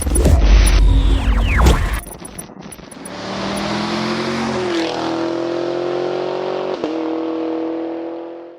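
A 2022 Mazda MX-5 Miata engine roars loudly up through the revs, then settles into a sustained, steady drone at high speed, close and with no talk.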